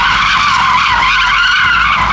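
A Tesla drifting on pavement, its tires skidding in one loud, continuous squeal that holds steady from start to finish with no voices.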